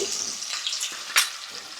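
Long-sliced onions and green chillies frying in a pan, a close, bright hiss with a short louder crackle burst near the end.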